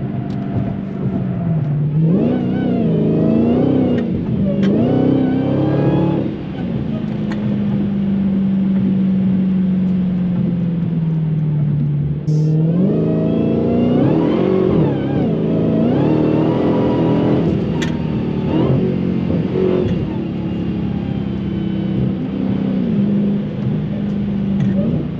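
A Dodge Challenger Hellcat Redeye's engine surges and revs through gears on a night road, its loud V8 roar rising and falling repeatedly over a constant drone of road and tire noise from inside the car.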